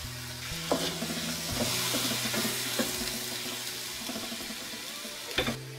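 Water poured into a hot pan of seafood stir-fry, a burst of sizzling and bubbling with scraping stirs and a couple of clanks from the pan, close and continuous with no voices.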